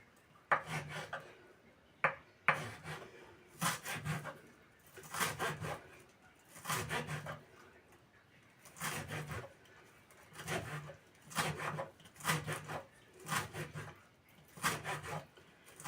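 A knife chops garden chives on a wooden board in a home kitchen, faint rhythmic bursts of scraping cuts repeating every second or so, with no speech.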